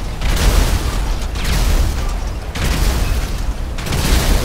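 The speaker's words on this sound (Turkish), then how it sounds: "tank patladı." A tank blows up in Grand Theft Auto V, heard as loud, continuous booming blast noise with rolling rumble and repeated surges of explosive crackle, with no voices.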